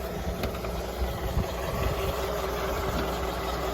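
An M-151A2 military jeep engine idles steadily and close by, a continuous low rumble with slight vibration and no voices.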